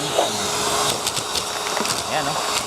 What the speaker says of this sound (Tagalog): meron na naman tayo ditong 5 vacuum cleaner na ititesting